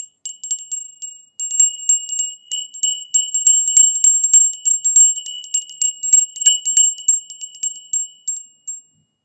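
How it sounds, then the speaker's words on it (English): A small bell is rung rapidly and repeatedly at close range, its bright ringing strikes arriving in quick clustered bursts with short pauses between them, heard alone. "So I'm going to go ahead and ring the bell in"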